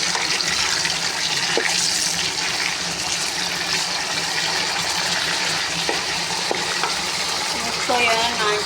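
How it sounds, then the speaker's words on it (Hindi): Eggplant fries in hot ghee in a pan, giving a continuous close sizzle with occasional stirring clinks and scrapes; no one speaks. "घी गर्म होने के लिए रखा था। ये इसके अंदर मैं बैंगन डालूँगी,"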